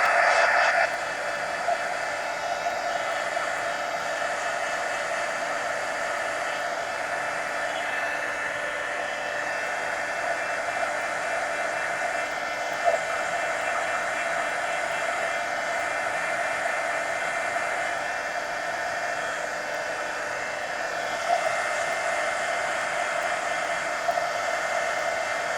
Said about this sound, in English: let me go ahead and hit these with the heat gun real quick